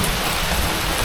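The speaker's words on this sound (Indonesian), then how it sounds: "Baru mulai udah kena hujan." Heavy rain pours down steadily at an outdoor fishing spot, a dense, unbroken hiss of drops close by with no voices heard.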